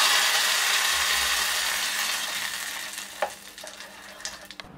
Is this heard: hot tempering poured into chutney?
yes